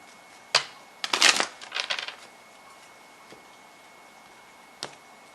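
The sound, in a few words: shuffling tarot lesson cards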